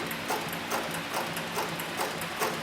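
A leather sewing machine driven by a variable speed servo motor at its slowest setting stitches through two layers of soft 4 to 5 ounce upholstery leather, giving a steady, evenly spaced mechanical clatter about twice per second over a constant low motor hum, close and alone.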